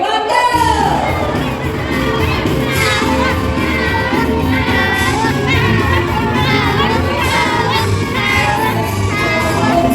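A lively crowd of children and adults cheers, shouts and whoops at the CNE HorseCapades horse show in Toronto, a loud sustained roar filling the whole stretch with excited voices.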